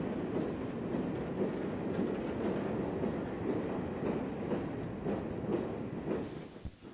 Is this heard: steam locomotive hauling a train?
yes